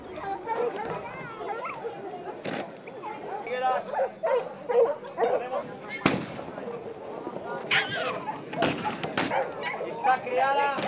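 Jack Russell terrier barking during a hunting outing in Spain, sharp yelps mixed with sudden loud bangs and overlapping voices talking throughout.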